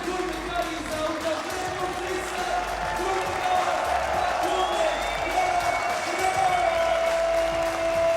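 Home crowd at a freestyle football final cheering and applauding in a steady, loud wash that swells slightly toward the end, with a voice talking over it.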